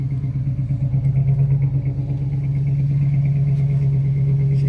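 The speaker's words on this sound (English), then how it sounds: "Nice, consistent idle." A 1968 Ford Country Sedan engine idling nearby, a steady low rumble with an even pulsing rhythm, loud and alone throughout.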